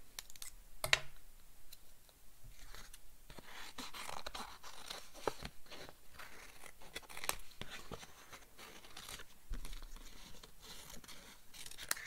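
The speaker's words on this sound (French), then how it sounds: "Je reprends mes ciseaux." Repeated crisp snips and crunches of scissors cutting slightly damp paper for a card, close up, in an irregular rhythm with faint rustling between cuts.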